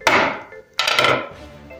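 A hammer strikes a melted lump of tantalum twice, each blow a sharp, loud crack that crushes the brittle, rock-like material, close up with no talk.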